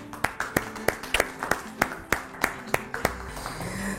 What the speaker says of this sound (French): on va applaudir pour les Soumaoro